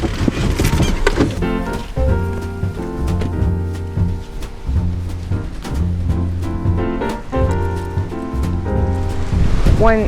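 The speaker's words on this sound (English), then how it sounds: "It's getting windy, holy cow." Strong wind roars and buffets the microphone in loud, gusting bursts, with a low rumbling hum running underneath.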